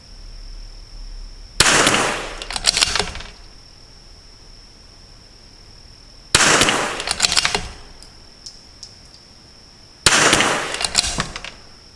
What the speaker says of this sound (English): I shoot a nice little group here.